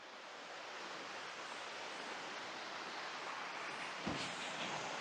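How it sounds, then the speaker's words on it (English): A river in a hidden village in Portland, Jamaica, rushes steadily in a continuous broad hiss of flowing water, close and even, with a brief louder splash near the end and no voices. "the river continues to flow"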